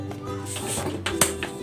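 A lid is set on a cooking pot of simmering milkfish paksiw with vinegar, fish sauce and water, giving one short clack near the end over a soft, steady kitchen hum.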